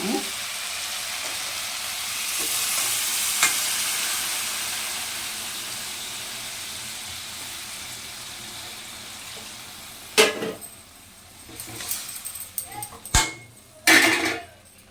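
Shrimp being stirred in a frying pan after a splash of water is added, with a soft steady sizzle through most of the clip and sharper utensil scrapes and clatters against the pan near the end.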